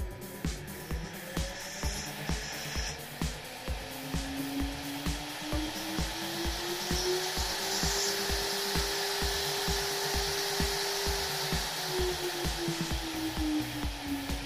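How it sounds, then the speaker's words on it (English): A CNC spindle driven by a Delta 2.2 kW 400 Hz three-phase VFD whines as it ramps up, a rising tone that settles into a steady hum, with a regular ticking pulse running beneath throughout. "as we vary this potentiometer, the spindle start to operate from zero to maximum RPM"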